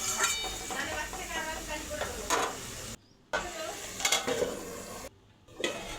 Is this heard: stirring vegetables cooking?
yes